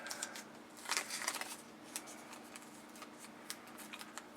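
Red masking tape strip being folded and handled at a tabletop, giving quiet, soft crinkling and tapping rustles, with a slightly busier flurry early on and then sparse small ticks.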